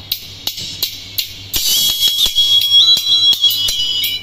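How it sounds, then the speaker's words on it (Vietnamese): A Pioneer P8804 super-treble speaker plays on its own, giving a loud, bright, sizzling high-pitched tone with sharp repeated clicks and bursts, growing denser and louder after the first second and a half. "Còn đây là tiếng chép thuần túy của nó."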